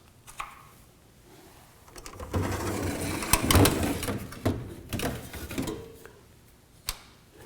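Scraping, sliding and clattering as metal collector cells are pulled out of a Honeywell electronic air cleaner housing, with a final sharp clack near the end.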